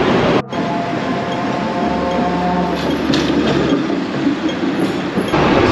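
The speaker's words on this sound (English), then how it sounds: "Trams behind us, great way to get around the city." A Hong Kong tram rolls along a busy Central street, loud and close, with steady rail rumble, clicking wheels and a low motor hum over continuous street noise, no talk.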